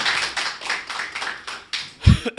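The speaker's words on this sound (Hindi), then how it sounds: "एक बार तालियां बजाएं" Audience at a Hindi poetry gathering gives scattered, uneven clapping, a handful of light claps in loose rhythm at moderate distance, ending with a heavier thump.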